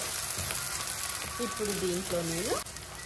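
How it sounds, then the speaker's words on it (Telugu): Onions, green chilies and ginger-garlic paste frying in a pan for Andhra-style gongura shrimp curry give a steady close sizzle, while a voice speaks over it toward the end. "అల్లం వెల్లుల్లి పేస్ట్, ఉల్లిపాయలు పచ్చిమిరపకాయలు, ఉల్లిపాయలన్నీ వేగిపోయాయి."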